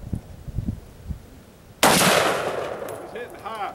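One loud, close gunshot during a shoot house run, a sharp crack followed by a decaying ring, heard after some faint low thuds.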